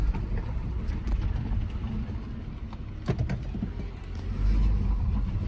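A 2011 Subaru Forester with a 2.5 liter engine, automatic transmission and all wheel drive is being driven, giving a faint low engine rumble mixed with wind buffeting and a few soft knocks, with no speech.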